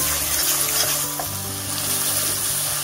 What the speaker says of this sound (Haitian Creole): ça c'est jambon avec épices là, c'est bien frit